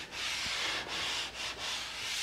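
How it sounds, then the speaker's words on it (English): Wood being sanded with a power sander on a first furniture build, a steady, close abrasive whir with brief dips in intensity, no speech. "just going to work it with the sander now, because I don't think I want to put the plane on it."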